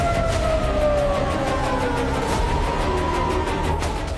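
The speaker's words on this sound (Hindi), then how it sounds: "और एयर रेड अलर्ट के सायरन" A loud wailing air raid siren over Tel Aviv sweeps slowly up and down in pitch, sounding steadily throughout with a dense noisy background.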